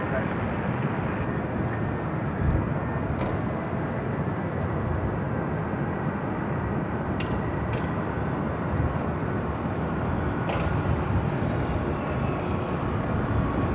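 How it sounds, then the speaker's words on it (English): An Alaska Airlines Boeing 737-800 jet arriving at LAX on the north side, heard as a steady, fairly faint broadband roar that holds level throughout. "Next arrival here on the north side is Alaska Airlines flight 1048 coming up from Seattle"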